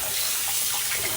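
Tap water runs steadily into a kitchen sink while a raw chicken is rinsed, a close, continuous hissing splash with no talking.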